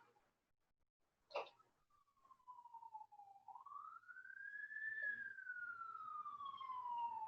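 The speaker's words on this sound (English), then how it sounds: "Can you guys hear that? There's an ambulance." A faint ambulance siren wails in a long, slowly rising then falling tone, heard from a distance, preceded by a brief knock.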